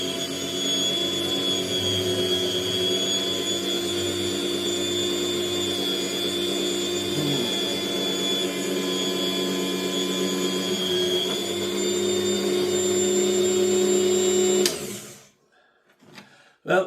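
A Cuisinart Professional electric meat slicer runs with a loud, steady motor whine and hum while slicing bread, then cuts off abruptly near the end, leaving near silence.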